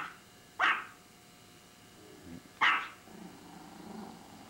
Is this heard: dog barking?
yes